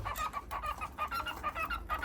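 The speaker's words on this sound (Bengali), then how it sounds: "যখন একটা পূর্ণ বয়স মানুষের হয়, তখন এই পাখিগুলো এরকম সিঙ্গিং করে থাকে।" A male albino cockatiel sings in a steady run of bright, chirping whistles and warbles, close and fairly loud, repeating in quick phrases without pause and with no talking.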